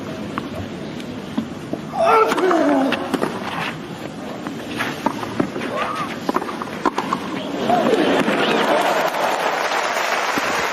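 Tennis crowd at a Nadal versus Djokovic match bursting into applause after a Nadal passing shot, swelling and fading in two waves, with a commentator talking over the noise.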